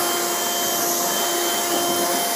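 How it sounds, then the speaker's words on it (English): A small handheld vacuum runs continuously close by, a steady high-pitched whine with a constant airy roar. "Then I just use my little dust buster."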